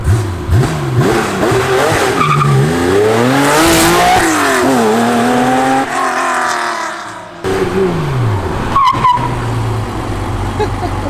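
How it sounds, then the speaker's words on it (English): An 800HP Mazda Cosmo launches hard with a loud, rising engine roar through several revving pulls, then brakes hard, ending in a brief tire squeal and a quieter idle, with some talk nearby. "You stay there, I'll do a launch, and then I'm gonna come up and do a hard brake"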